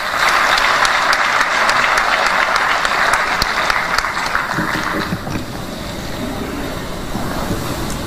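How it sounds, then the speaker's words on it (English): An audience applauds steadily and loudly at a university public lecture at the University of Dar es Salaam, the clapping dense for several seconds before thinning and tapering off toward the end. "A round of applause."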